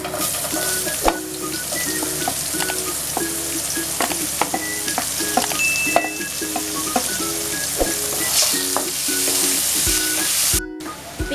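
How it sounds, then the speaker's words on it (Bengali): Onions frying in a pan for a Bengali egg curry with poppy seeds, a steady close sizzle broken by repeated scraping stirs of a spatula, with no talk over it. "পেঁয়াজগুলো এবার আমি ভেজে নেব।"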